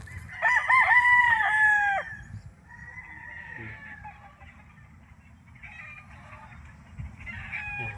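Gamefowl stags crow on a farm in Tagaytay City, one loud close cock-a-doodle-doo followed by several fainter overlapping crows from other birds, over steady outdoor background noise.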